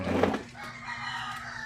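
A rooster crows loudly and close, one drawn-out call fading into a quieter background with distant birds.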